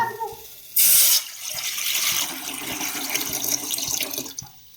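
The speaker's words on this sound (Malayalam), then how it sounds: "ഇനി ഒഴിക്കുന്നു പച്ചയായ വെള്ളം." Water pours briefly in a loud rushing splash into a vessel with cardamom for making tea, followed by a softer steady hiss and gentle trickling, with no voices.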